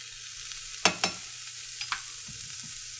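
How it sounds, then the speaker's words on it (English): Chili powder, cumin and a few cloves of garlic are stirred in a hot pan: two sharp scrapes of a utensil close together, then a couple of lighter taps, over a low steady sizzle with no talking. "We'll stir this up for about 30 seconds and then turn off the heat"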